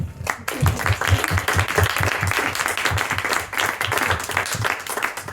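An audience at a book presentation bursts into applause, many hands clapping in a full, sustained ovation that rolls on for several seconds with no speech over it.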